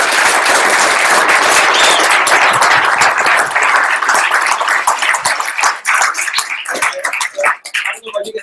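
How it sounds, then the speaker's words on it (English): At a Startup Weekend pitch event in St George, an audience gives a loud, dense round of clapping for the pitchers, then thins into scattered individual claps at the end. "So one more round of applause for everybody that pitched."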